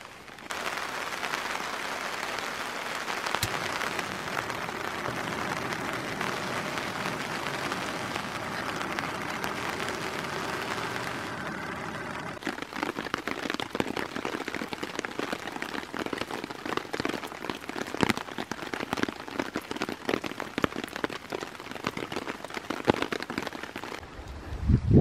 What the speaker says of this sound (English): It's supposed to be a day of rain.